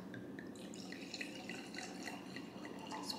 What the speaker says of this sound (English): Pour ourselves a glass,